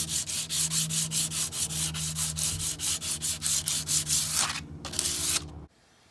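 Rhythmic back-and-forth scraping strokes as a Cold Steel tomahawk blade is hand-sharpened, steady and close, roughly two strokes per second, stopping near the end.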